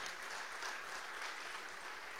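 A church congregation claps together at a worship service, a faint, steady wash of applause that holds evenly from start to finish.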